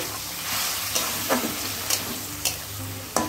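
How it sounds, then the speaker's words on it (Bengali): Ginger-garlic paste sizzles in a pan for an eggplant dish, a steady hiss broken by a few sharp scraping stir clicks spaced about half a second apart, close by, with no voices. "এটাকেও ভেজে নিচ্ছি"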